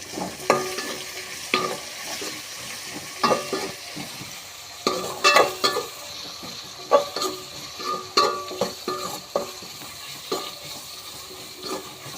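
Onions frying in oil for a garlic curry sizzle steadily in a pan while a utensil scrapes and knocks against the metal in irregular stirring bursts, close and fairly loud.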